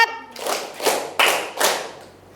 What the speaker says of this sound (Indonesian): Terima kasih ya, tepuk tangan.